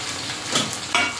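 Sliced onion fries in a hot pan as ginger paste goes in for a chicken curry, giving a steady close sizzle with a brief louder burst near the end and no voices.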